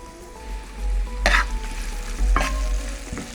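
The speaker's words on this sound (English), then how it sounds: "first I'm gonna add the carrot since it takes the longest time to cook" Chopped carrots frying in a pan for Jamaican escovitched fish, a loud close sizzle with a couple of sharp scraping stirs, no voices.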